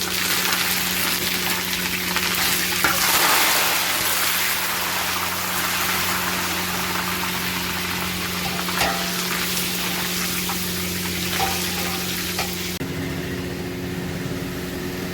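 Curry leaves fry in hot oil with a loud, dense, steady hiss and crackle that stays constant throughout, with no voices.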